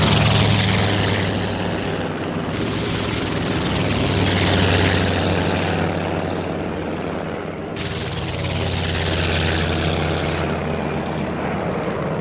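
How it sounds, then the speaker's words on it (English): Propeller aircraft of the Pearl Harbor second attack wave taking off from a Japanese carrier, a loud continuous droning engine roar that swells and fades as planes pass, with no voices. "167 aircraft of the second wave of attackers took off."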